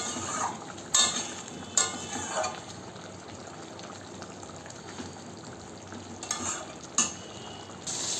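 A katla fish kalia curry simmers in a pan with a soft, steady bubbling sizzle, while a spoon scrapes and clinks against the pan in several sharp strokes, close by.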